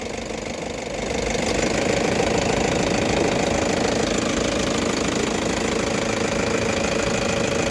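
A car engine idles close by with a steady, rough rumble that grows louder after the first second and then holds evenly, no talking.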